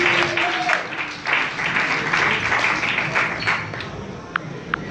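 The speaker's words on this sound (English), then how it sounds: "So give yourselves another round of applause." An audience claps through a short stretch of applause at a gathering, uneven and swelling in places, with a couple of sharp taps near the end and faint voices in the background.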